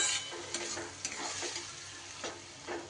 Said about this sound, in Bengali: এবার সুন্দর করে পোস্তটাকে একটু মিশিয়ে দেব।